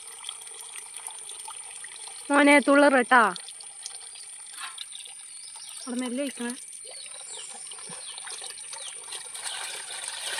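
Fresh water flows into a pond being cleaned with a steady low trickle running throughout, while people talk loudly in short bursts over it.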